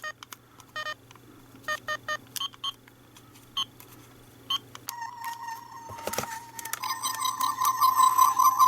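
A run of short electronic beeps from a Star Trek toy tricorder, irregular and close, giving way to a sustained warbling electronic tone that grows louder toward the end.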